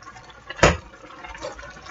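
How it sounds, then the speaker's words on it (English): A single short splash of water being poured into a pan of spaghetti sauce, a brief burst of liquid sound in an otherwise quiet, slightly noisy room. "Put a little bit more of this water in."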